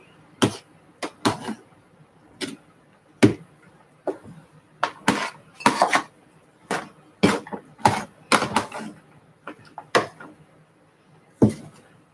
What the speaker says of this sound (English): Stir my Trinity in here